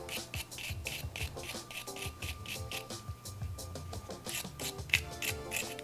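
Steel wool, grade 0000, scrubbed across the contacts of an automotive switch, giving a steady rhythmic rasping rub with repeated strokes, close and moderately loud, with no talking.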